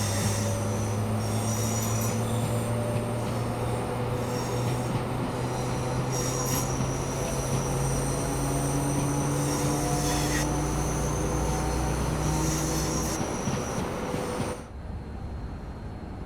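A Class 390 Pendolino electric train in Train Sim World 6 on the West Coast Main Line, stopping at Watford Junction: a steady, loud hum with low tonal drones and wheel squeal, continuous until it cuts away near the end.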